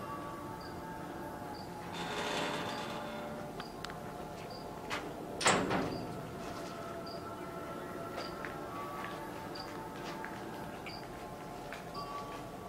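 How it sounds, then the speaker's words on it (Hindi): A door rattles and bumps once as wind moves it, amid faint creaks and light ticks, over a low steady background hum. "हवा चली, दरवाजा हिलना शुरू हो गया यार।"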